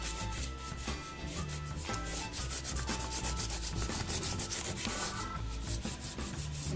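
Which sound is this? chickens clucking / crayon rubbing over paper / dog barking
crayon rubbing over paper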